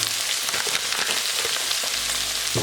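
Okra bhindi bhaji frying in a pan gives a steady, dense hiss and crackle of hot oil, close and constant throughout, with no voices.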